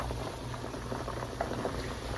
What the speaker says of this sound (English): I think I got a pot of boiling beets here.